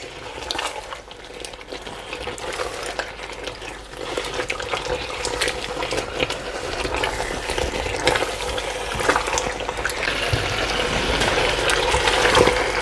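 Potato curry masala for aloo bhujia being stirred after dried fenugreek leaves go in, a continuous close sizzle and wet scraping of a spoon through the pan, steady and fairly loud.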